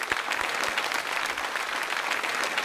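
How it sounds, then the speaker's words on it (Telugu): A crowd at a children's stage event breaks into loud, sustained applause, dense clapping filling the space evenly from start to finish. "సో గట్టిగా చప్పట్లు."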